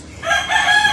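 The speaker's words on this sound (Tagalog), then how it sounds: "Ang manok ko talunan yan, hindi alaga." A rooster crows close by at a cockfighting gamefowl yard, one bright sustained cock-a-doodle-doo rising after a short quiet start and holding to the end, with no talk over it.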